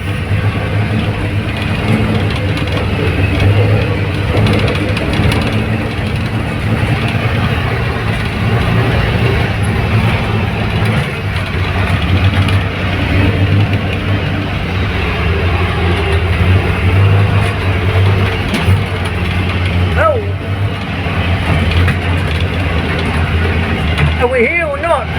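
A Series One Land Rover drives across a farm, its engine droning loud and steady with rattling, clanking mechanical noise throughout, under occasional speech.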